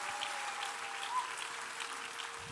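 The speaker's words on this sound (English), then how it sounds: "God deserves more than that mighty clap of hand." A church congregation claps hands together in a dense, even wash of applause that continues unbroken, heard from a distance and fairly faint, with no voices over it.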